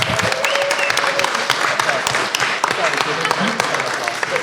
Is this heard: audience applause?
yes